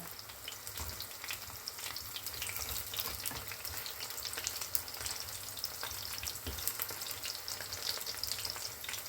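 Frozen chicken nuggets frying in hot oil, a dense, steady crackling sizzle that runs unbroken throughout, close and moderately loud with scattered pops.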